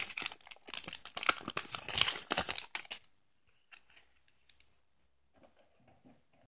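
Crinkly foil wrapper of a Yu-Gi-Oh card pack from a 2016 Yami Yugi and Slifer Mega Tin being torn open and crumpled, busy and close for about three seconds, then a few faint rustles as the promo cards are worked loose.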